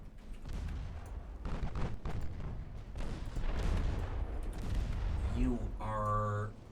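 Naval gunfire in the warship game Ultimate Admiral Dreadnoughts, with heavy booming shots rolling through a dense, continuous battle din over several seconds, and a brief tonal alarm-like chime near the end.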